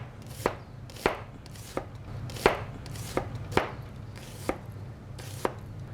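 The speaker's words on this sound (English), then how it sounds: "you don't need too much, just thinly slice it." A knife thinly slicing an ingredient for a crispy-skin salmon and freekeh salad, cutting on a board with about nine crisp, distinct taps at an unhurried, slightly uneven pace, close and clear over a quiet background hum.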